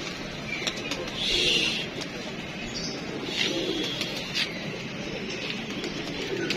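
Pet pigeons perched up high give soft, throaty coos in a few separate bursts over a steady background hum.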